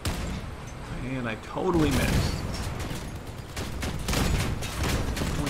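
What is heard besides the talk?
heavy gun firing in the video game Crossout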